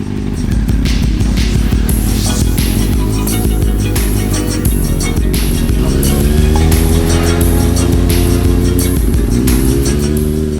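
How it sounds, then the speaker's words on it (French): A motorcycle engine roars loud and close, revving hard as it accelerates, with its pitch climbing, dropping back, then climbing again as it shifts up through the gears. "ça passe les vitesses, ça accélère un peu plus fort"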